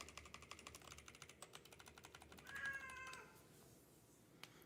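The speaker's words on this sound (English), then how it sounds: "I have a cat that needs to be held." A cat meows once with a drawn-out, moderately close cry, set against a quiet room where a rapid mechanical ticking clatters before and during the call.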